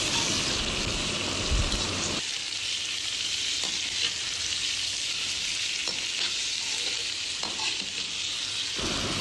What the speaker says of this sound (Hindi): चिकन को अच्छी तरह से गोल्डन होने तक फ्राई कर लेंगे